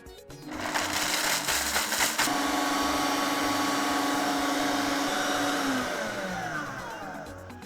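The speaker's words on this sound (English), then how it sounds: "I'll be blending the Offor now." A kitchen blender whirs steadily as it blends offor for Igbo soup, a loud motor drone that starts with a few rough bursts, settles into an even whine and eases slightly toward the end.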